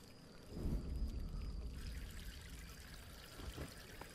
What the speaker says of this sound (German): Und können jetzt diese Blume gießen.